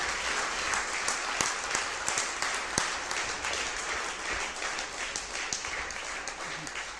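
A reunion gathering gives a big round of applause, many hands clapping in a dense, steady burst with a few sharper individual claps standing out, sustained for several seconds.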